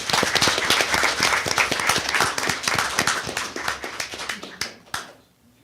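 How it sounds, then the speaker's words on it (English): Audience applause for a student being honored at a school board meeting, dense clapping from many hands that carries steadily at close range, then thins to a few last claps and fades out. "Let's give another round of applause"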